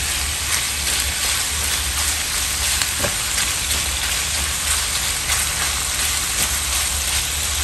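Vegetables and chicken fry in a pan at home with a loud, dense, continuous sizzle like heavy rain, steady throughout with a few faint stirring taps and no talking.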